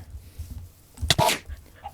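A dog in modded Minecraft gives a short, sharp bark-like sound near the middle, fairly close and alone over quiet game ambience.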